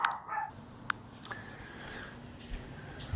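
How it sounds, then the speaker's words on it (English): Puppies give a few short, faint yips and whimpers indoors, scattered high-pitched cries over about three seconds against a quiet room background. "Put them little puppies outside."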